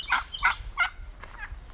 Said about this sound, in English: Turkeys are a little noisy today.